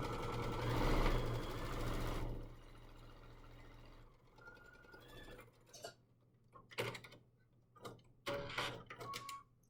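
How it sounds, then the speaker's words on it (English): A sewing machine stitches a quarter-inch seam in fabric with a fast, steady mechanical whir for about two seconds. Quieter clicks and handling noises follow. "I'm going to put it in and sew down 1/4 inch."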